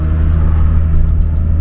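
Renault Laguna Nevada engine pulling hard under acceleration, a steady, loud low rumble with a continuous whirring drone, heard from inside the car with no talking.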